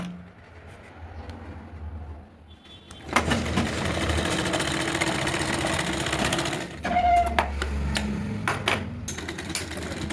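A sewing machine stitches a frock sleeve made from an old saree, starting after a quiet pause with a fast, steady rattling whir that runs continuously, pausing briefly before resuming, close and fairly loud, with no talk.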